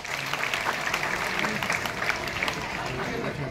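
Applause for donors at a village gathering, with a crowd clapping steadily and fairly close for a few seconds, mixed with faint voices.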